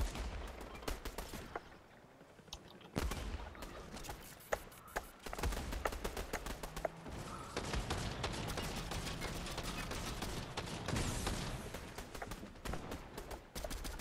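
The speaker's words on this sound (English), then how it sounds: "That's like a lot of shots going on." Many gunshots ring out in Fortnite, dense overlapping volleys of rapid fire throughout, moderately loud and somewhat distant.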